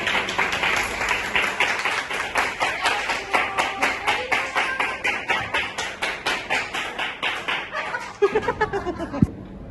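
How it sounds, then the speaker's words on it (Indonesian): A classroom of students claps in applause, with sharp individual hand claps clearly separated in a regular rhythm, gradually fading, followed by a brief voice and a bump at the end. "Tepuk tangan buat kalian semua."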